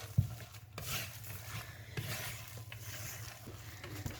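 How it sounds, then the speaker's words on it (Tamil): Kadalai vadai batter with curry leaves and salt is mixed by hand in a bowl, soft squelching and rubbing with a few light knocks, close and quiet, no speech. "இது எல்லாத்தையும் போட்டு இப்போ மிக்ஸ் பண்ணி எடுப்போம்."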